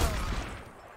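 Gunfire at barrels in the video game Trouble in Terrorist Town comes as one loud, close burst of shots that quickly fades.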